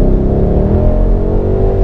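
A Ford Mustang V8 of about 450 hp rumbles loud and close with a steady, deep, rising rev that holds throughout.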